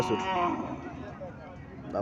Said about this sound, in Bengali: এখানে একটা গাবি দেখা যাচ্ছে, বাছুরটা খুব সুন্দর দেখা যাচ্ছে।